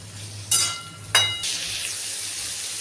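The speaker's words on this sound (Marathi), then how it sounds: "आता आपण कांदा परतून घेऊया" Sliced onions frying in oil in a kadhai, a steady close hiss of sizzling with two sharp scraping stirs of a spatula early on, no talking.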